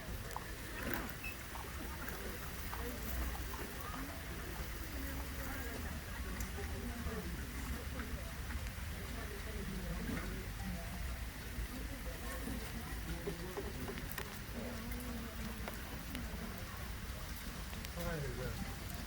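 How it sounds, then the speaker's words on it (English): Steady rain patters on a surface in Williamsburg, Virginia, with a dense, even hiss throughout and faint voices somewhere in the background. "Try to get out of the rain"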